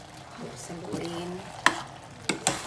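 Jackfruit in coconut milk stirred in a pan with a spoon, soft scraping and bubbling with a few sharp clacks of the utensil against the pan, close up, with a faint murmur of speech.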